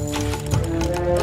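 A horse whinnies over a steady rumble of hooves and game ambience in the medieval strategy game Stronghold Crusader, brief and fairly loud.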